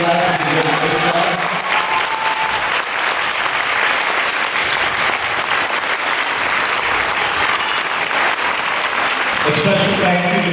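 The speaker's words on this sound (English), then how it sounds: "can we have another round of applause for all three of our third grade classes who did a great job?" A school audience applauds third grade classes after a performance, sustained clapping filling the whole stretch, loud and close, with a few voices heard briefly at the start and end.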